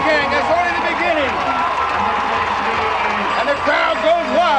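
Football crowd roaring and cheering after a touchdown at a 1994 high school game, a loud continuous swell of whoops and shouts with no break throughout.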